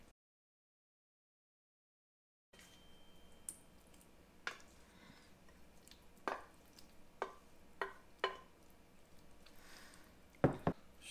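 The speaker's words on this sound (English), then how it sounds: "Stir that around." Shrimp being stirred into a pot of etouffee, quiet wet squishes and scattered spoon clicks against the pot at an irregular pace, following a short stretch of silence.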